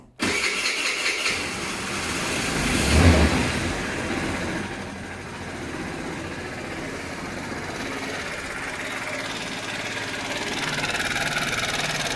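A Volkswagen engine cranks and starts, then idles roughly with a persistent mechanical clatter from a worn bearing knocking, heard close for several seconds.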